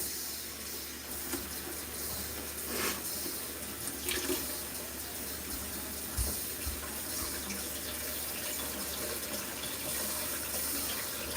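A tap runs steadily while hot water fills a container, a continuous close hiss of flowing water with faint clinks and no talking.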